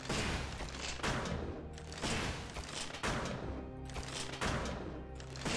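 Weapon firing bolts in the video game Dead Cells: loud, rhythmic bursts repeat about once per second, each a dense volley of crackling impacts with brief dips between.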